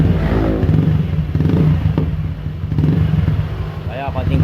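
A motorcycle fitted with a new exhaust pipe revs up loudly close by, its throttle rising and falling in short bursts while a person talks over the engine.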